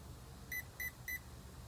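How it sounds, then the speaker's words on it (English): Three short, evenly spaced electronic beeps from a Spektrum Firma 160 ESC in programming mode, each clear and tonal over a faint steady background hum, with no talking. "let's make sure it's 4 beeps"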